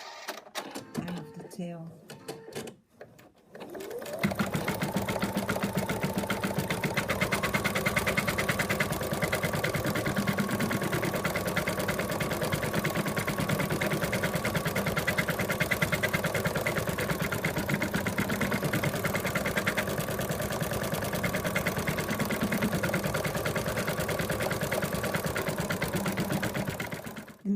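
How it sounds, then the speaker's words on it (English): An embroidery machine stitches the outline of a moose's antlers and tail in an in-the-hoop project, its rapid mechanical needle rhythm running steady and loud after a brief start, with a voice talking over it at first. "The machine's finished stitching the outline"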